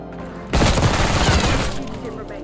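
Heavy-recoil gun firing in a shooter game: an abrupt loud onset into a dense, sustained roar of rapid shots, with voices faintly underneath.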